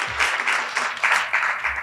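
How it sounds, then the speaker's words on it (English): An audience at a Korean American awards event on AI and leadership claps in a brief, dense burst of applause. Many hands beat together in a steady, fairly loud patter that lasts just under two seconds. "one more round of applause for that conversation"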